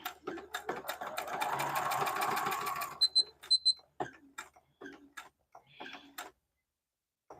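A domestic sewing machine stitches through a paper-piecing quilt block in a steady, close whirring run for about three seconds, then stops and is followed by a few short clicks and handling noises.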